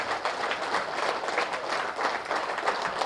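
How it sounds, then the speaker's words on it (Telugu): Audience claps loudly together after a guided meditation session at a large spiritual gathering, a dense, sustained burst of applause continuing steadily throughout with no voices. "ఒకసారి ధ్యానానికి గట్టిగా చప్పట్లు కొడదాం"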